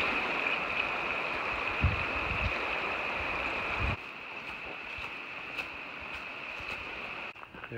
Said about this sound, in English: Next river crossing.